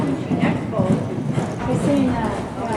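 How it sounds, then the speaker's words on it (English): A horse gallops at a pole chasing event, with hooves clip-clopping in a quick rhythm under loud crowd shouting and voices. "Let's watch this horse here go."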